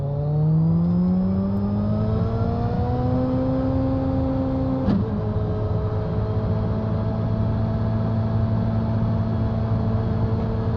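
A race car in the iRacing sim climbs the fast uphill finishing straight at Circuit de Lédenon after the last corner. Its engine note rises steadily through the gears, with one brief upshift, and holds a loud, sustained whine throughout.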